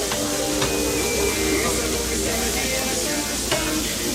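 Vendace fish fry over a strong, high flame in a pan, giving a dense, close sizzle and crackle with occasional stirring scrapes, steady for the whole moment.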